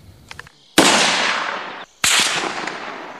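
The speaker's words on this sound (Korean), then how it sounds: "어둠을 뚫고 울려 퍼진 총성." Two sharp, loud sniper rifle shots ring out at night on a Korean special forces training range, each a single crack followed by a long rolling echo that fades, about a second apart.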